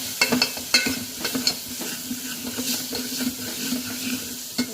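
Cumin and pepper powder fry in a pan for dal rasam. A soft sizzle runs under irregular stirring scrapes and light clinks of a spoon against the pan.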